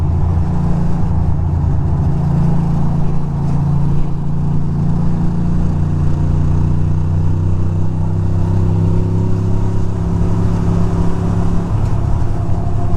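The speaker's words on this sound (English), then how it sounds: "this truck is moving" A big truck rolls through city street traffic, its engine droning loud and close for the whole stretch, with a gradual rise in pitch as it pulls ahead and a shift near the end.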